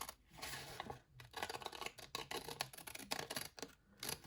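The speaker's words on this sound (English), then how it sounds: "I'll just do it with my scissors." Scissors snip through a paper junk journal embellishment in a quick series of close, crisp cuts and rustles, with brief pauses between bursts.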